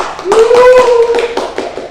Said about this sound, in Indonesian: Tepuk tangan buat Mbak Widi ya.